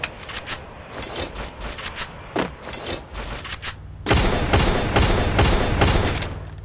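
Bursts of gunfire in the Free Fire battle royale game, loud, rapid volleys that grow denser and heavier toward the end, with dull thumps mixed into the shooting.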